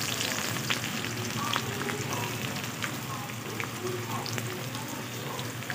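Chopped onion sizzles as it drops into garlic frying in oil for a chicken curry, a steady close crackling hiss with scattered sharp pops running the whole time, no talk.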